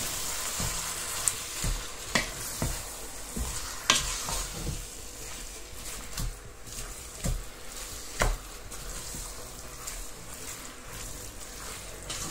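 A filling with onions and garlic sizzles in a hot pan while a utensil stirs it, giving intermittent scraping knocks over a constant frying hiss.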